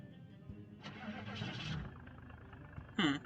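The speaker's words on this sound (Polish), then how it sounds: "I odpalamy silnik." A car engine is cranked and started in the video game Project Zomboid, with a faint churning start followed by a brief louder burst near the end, all fairly quiet and heard without talk.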